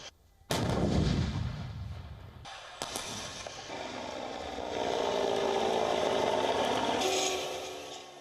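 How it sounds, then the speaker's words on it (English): Armoured vehicles fire during a military live-fire exercise: a sharp, loud blast opens, followed by rolling rumble and a second report, then sustained engine and firing noise that swells toward the end. "The live-fire exercises include practice firing from armoured vehicles"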